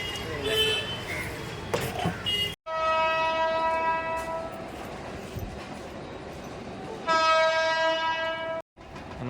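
A passenger train at Masjid railway station in Mumbai sounds two long, steady horn blasts rich in harmonics, separated by a sharp cut, over a continuous rumble of rail and station noise.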